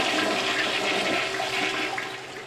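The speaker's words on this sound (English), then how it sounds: "Even the most powerful flush can't make those flushable wipes disappear." A powerful toilet flush: a steady, close rush of water lasting a couple of seconds and easing slightly at the end, with no talk.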